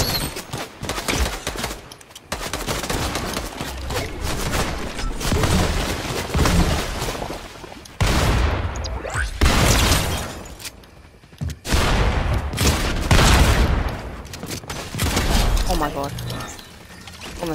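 Gunfire in the video game Fortnite comes as rapid bursts of shots in repeated volleys, with a player talking excitedly over the shooting.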